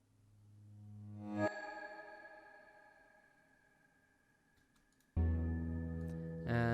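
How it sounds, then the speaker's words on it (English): Layered cinematic cue with a reversed swell rising into a sharp hit, then a sustained faint beep-like synth tone, col legno strings, a sustained cello and mallet notes, ending in a loud bright chord burst. "I also added some reverse sound effects right here"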